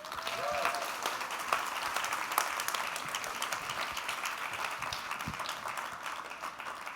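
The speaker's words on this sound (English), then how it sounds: "Ladies and gentlemen, a huge round of applause for the world champion." An audience in a tent greets a world champion with sustained applause, a dense, even wash of clapping that holds steady throughout with a faint voice underneath.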